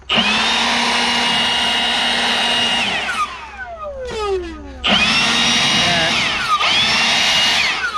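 A loud, steady motorized whine of a hair dryer runs, cuts off and winds down with a falling pitch, then starts up again at full strength.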